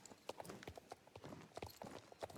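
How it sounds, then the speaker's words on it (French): A horse galloping in the video game Star Stable, a quick, even run of faint hoofbeat clip-clops, quiet and alone with no talk. "Et comme d'habitude, il choisit le grand galop."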